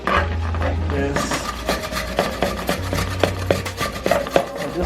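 Zucchini is scraped by hand in a home kitchen, giving rhythmic close scratchy rasping strokes, with intermittent background voices and a low hum.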